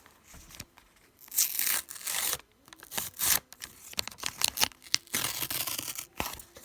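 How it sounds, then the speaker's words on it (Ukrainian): Close, crisp tearing and crinkling of a paper packet in several short bursts, with brief pauses between rips. "Давайте відкриваємо наш пакетик."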